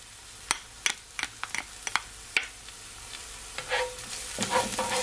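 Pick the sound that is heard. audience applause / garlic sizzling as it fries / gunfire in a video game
garlic sizzling as it fries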